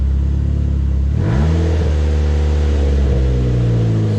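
A Dodge SRT-4 engine with a hanging throttle sits at idle, then its revs climb sharply and hang at a steady elevated pitch, a loud, close mechanical drone that holds without dropping back.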